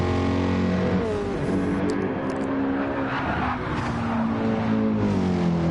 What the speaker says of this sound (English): Love the sound of his car. It's got a nice throaty sound to it.